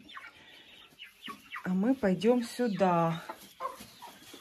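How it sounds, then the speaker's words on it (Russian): Hens at a dacha cluck and call loudly nearby as one lays an egg, a run of rising, drawn-out squawks, with a person speaking briefly around them. "Ой, а тут как раз курочка несется"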